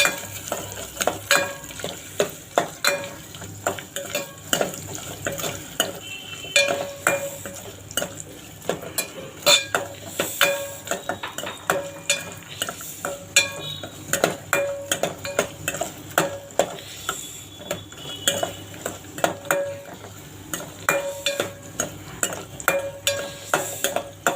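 Spices and coconut are fried in oil for a Chicken 65 gravy and stirred with a metal spoon. There is constant close sizzling, broken by frequent scraping and clinking strokes against the pan.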